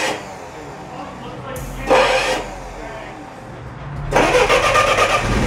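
A propane-powered forklift engine cranks and catches in two bursts, the second settling into a rough, loud running rumble, with voices nearby.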